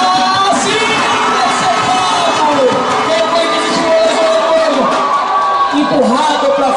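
A stadium crowd at an American football game between Storm and Corinthians in Brazil roars steadily in the background, a constant broad wash of cheering and yelling, with a commentator's voice talking over it throughout.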